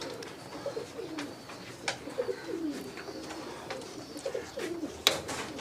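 Pigeons coo repeatedly at a loft, soft rolling calls recurring throughout at close range with light background noise and no talk.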